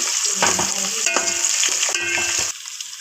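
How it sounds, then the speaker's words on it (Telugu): Onions frying in a pan crackle and sizzle loudly and close, with spatula stirring scrapes in uneven bursts; the sound drops to a softer sizzle near the end, and no one talks. "ఉల్లిపాయలు చాలా బాగా ఫ్రై అవ్వాలి"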